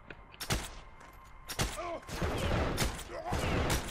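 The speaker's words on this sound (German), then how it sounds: "Die Flak schießt auf dich." Anti-aircraft flak guns firing in the World War II game Heroes and Generals, sharp booming shots at irregular intervals, some near and some farther off, with voices talking between them.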